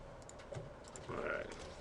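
Quiet clicks of a computer keyboard as a short command is typed, a few soft keystrokes in quick succession with faint background hum.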